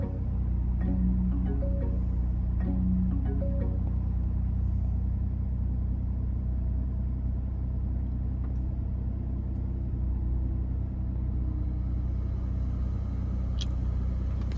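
A 2023 Lincoln Navigator idles with the engine on, a steady low rumble heard from inside the cabin, with a few faint clicks and taps over the top.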